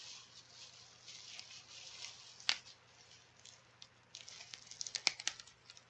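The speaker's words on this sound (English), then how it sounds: "The bubble wrap's nice. You guys hear this?" Bubble wrap crinkling and popping as a package is unboxed, with soft rustling throughout and sharper crackles and pops clustering toward the end, close and fairly quiet.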